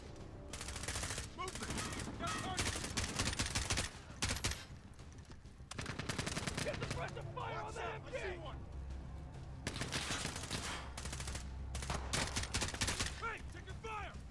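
Dense bursts of gunfire from Call of Duty Modern Warfare campaign in realism mode, rapid volleys and single shots repeating across the scene, with players talking over the action at times.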